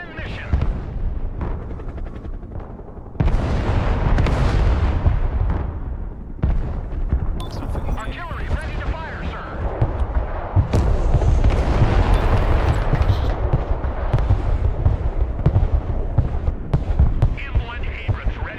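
Mobile artillery firing in the Broken Arrow war game, a series of heavy booming blasts and rumbling impacts layered over a continuous low battlefield hum, loud and close throughout.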